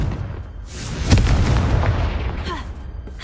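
A Confringo blasting curse explodes in Hogwarts Legacy, a single loud boom with a rumbling blast tail that fades over a few seconds, close and dominant with no talk.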